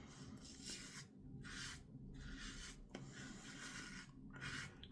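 Henson Medium AL safety razor scraping through stubble while shaving, faint close rasping strokes coming in short repeated bursts with brief pauses between them.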